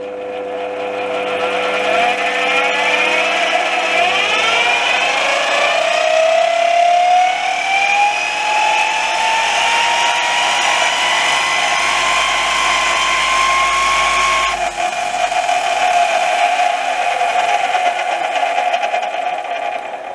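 A Sieg C3 metal lathe with a repaired gearbox runs at high speed, a loud whining mechanical hum that climbs in pitch as it spins up, holds steady, then drops away near the end, with no speech.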